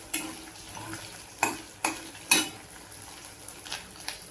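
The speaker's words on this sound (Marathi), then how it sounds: "तेलामध्ये चांगले बोंबील टाकलेले आहेत। आता त्याला चांगले असे तळून घेते मी" Bombay duck (bombil) fish frying in hot oil, a steady soft sizzle with a few sharp crackles and pops standing out near the start, close by and moderately quiet with no talking.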